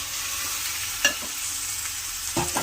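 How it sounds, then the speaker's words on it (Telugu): Chicken sizzling steadily in a hot pan for gongura chicken curry, a constant hiss with a couple of brief clatters of stirring, no voices. "వేగిపోయిన తర్వాత ఒక అర కేజీ చికెన్, కడిగి పెట్టుకున్న చికెన్ వేసేసుకోవాలి"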